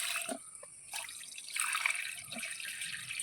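Fresh water drips and trickles into a spotted catfish pond during cleaning, with faint, irregular splashes and a thin running-water sound close by and no talk.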